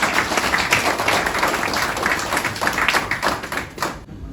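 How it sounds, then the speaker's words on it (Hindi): A crowd applauds the chief guest at a Canara Bank foundation day function, a dense, steady patter of many hands that continues for about four seconds and then cuts off abruptly. "आप सभी से अनुरोध करता हूं कि मुख्य अतिथि के लिए जोरदार तालियों से एक बार पुनः स्वागत किया जाए"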